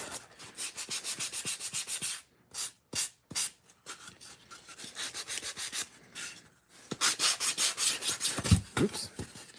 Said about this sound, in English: I could take the time to sand down the edges so they're rounded over